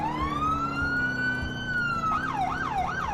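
A police car siren in GTA IV holds a long rising wail, then switches to a fast warbling yelp, heard close over a low engine rumble.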